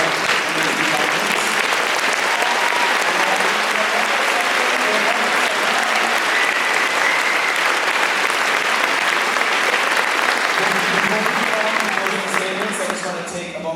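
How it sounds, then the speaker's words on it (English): An audience at a mayoral debate at City Arts applauds the candidates with steady, full clapping that fills the room for over ten seconds, then begins to taper off at the end. "let's give a round of applause to our amazing candidates."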